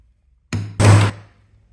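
Stitching holes are punched in leather for a coin and card wallet, heard as two close, heavy knocks in quick succession with a short dull decay and nothing else around them.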